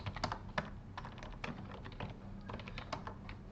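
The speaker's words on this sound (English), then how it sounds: "I'll just type it too." Fast, steady typing on a computer keyboard, the keys clicking in quick uneven bursts at low level, heard alone without talk over a faint room hum.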